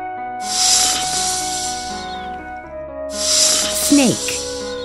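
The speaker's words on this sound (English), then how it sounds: "Snake," Within a children's zoo animal-sounds game, a snake gives two long, loud hissing bursts, each lasting about two seconds, over a steady musical background with a brief falling tone effect.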